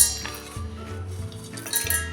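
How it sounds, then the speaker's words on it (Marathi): Cooled fried lentils, coconut, peanuts, dried chillies, tamarind, cumin, garlic and curry leaves are tipped into a steel mixer jar, giving a few light clinks and scraping rattles against the metal, close and quiet. "आता हे थंड झालेले सगळे पदार्थ आपण मिक्सरच्या भांड्यात टाकून घेऊया"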